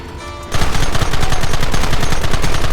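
Rapid, loud automatic gunfire from a shootout in the video game Red Dead Redemption breaks out after a brief quieter moment and continues as sustained, densely packed bursts.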